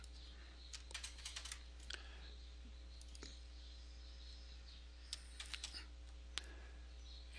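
Keys on a computer keyboard clack in short, sparse bursts as an image URL is entered, close and crisp against a quiet room with a faint steady hum.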